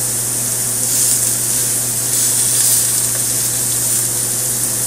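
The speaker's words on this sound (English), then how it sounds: "I push the meat right onto the pan" Steak chunks spread flat in a hot pan give off a steady, loud sizzle: a dense, even hiss that holds without break, with no voices over it.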